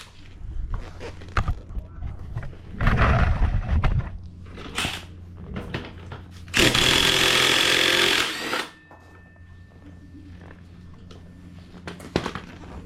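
A front axle nut on a Harley-Davidson Fatboy motorcycle is loosened with a 1/2-inch drive tool: scattered clanks and rattles, a loud harsh tool burst lasting about two seconds, then quieter handling noises.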